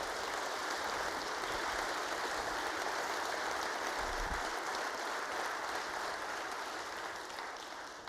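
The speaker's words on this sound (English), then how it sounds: "So please give them a round of applause." Round of applause from a large crowd at a 2018 State of the State address honoring the State Board of Education, a steady, wash-like clapping that holds evenly throughout and fades slightly at the end.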